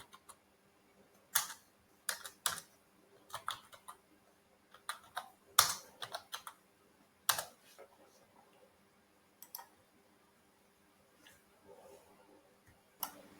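Computer keyboard typing comes in short, irregular bursts of close clicking keystrokes separated by pauses, fairly quiet and with no talk over it.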